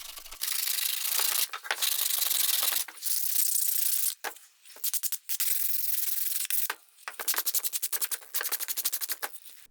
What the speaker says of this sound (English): hand sand the rest of the curve